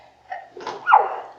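A single short sneeze in a classroom setting, a quick breathy intake followed by a sharp burst, close and fairly loud, alone without talk.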